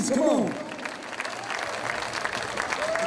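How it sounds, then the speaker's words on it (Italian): Audience at a live blues and soul band concert claps steadily in a dense, even wash of applause, while a voice speaks over it near the start and end. "Un applauso per tutti."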